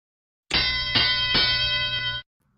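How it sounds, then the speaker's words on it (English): A bell is struck once, ringing out loud and bright with a sharp attack, two quick follow-up taps, and a sustained metallic tone that stops abruptly under two seconds later, with no talk. "You want to hit that bell?"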